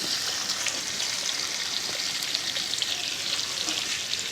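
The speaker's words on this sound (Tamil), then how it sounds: "நல்லா வதக்குங்க" Onions sautéing in a pan with chilli and garlic for lady's finger puli curry give a steady, close hiss and crackle with faint stirring, and no voices.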